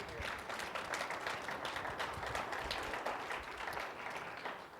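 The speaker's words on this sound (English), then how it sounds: "Let's give him a hand clap of praise." A church congregation claps together in praise during a sermon, a dense, steady burst of hand clapping from many people that holds at an even level throughout, fairly close and with no talking over it.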